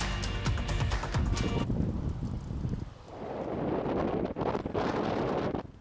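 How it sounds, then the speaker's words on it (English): Strong gusts of wind buffet the microphone in south central Washington and northern Oregon, with loud, roaring rushes that rise and fall, with a brief lull midway. "Talk about a windy day across south central Washington and northern Oregon."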